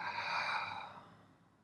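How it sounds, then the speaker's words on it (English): A slow, deep exhalation during a guided meditation, a soft breathy rush that swells briefly and then fades gradually over under two seconds, heard alone and fairly quiet. "And breathing out slowly."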